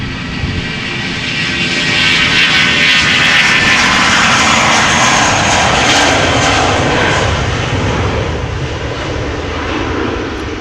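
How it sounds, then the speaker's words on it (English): A 21-year-old British Airways Airbus A320 jet airliner bound for London Gatwick roars past at Amsterdam Schiphol, loud and close, its engine noise swelling early and holding strong before easing slightly toward the end. "Speedbird flight 2825 A320 going to London Gatwick."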